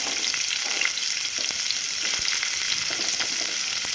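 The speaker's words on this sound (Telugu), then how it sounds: "కొద్దిగా జీలకర్ర వేసుకొని ఫ్రై చేసుకుందాం. అవి ఫ్రై అవుతున్నాయి కదా" Cumin seeds and onion fry in a pan for an eggplant-tomato curry, producing a dense, continuous, even crackling sizzle with faint occasional utensil taps.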